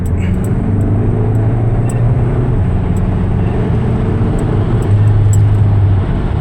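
Tuned Kerma TDI diesel car with a DSG gearbox accelerating, a steady loud low engine drone with rising harmonic tones and constant road and wind roar, no talk.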